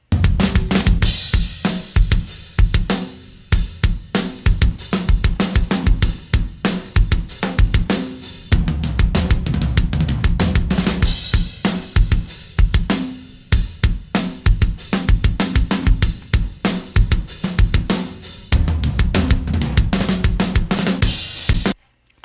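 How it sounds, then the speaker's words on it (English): Drum room mics from a metal mix crushed through a Fairchild compressor, dense pumping kit with punchy kick and snare hits and a thick wash of cymbals and room ambience, playing continuously without voices. "So you see how it adds room sound and it adds presence to the kick and snare as well."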